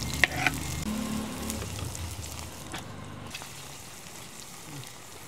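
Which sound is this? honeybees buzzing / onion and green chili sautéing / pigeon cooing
onion and green chili sautéing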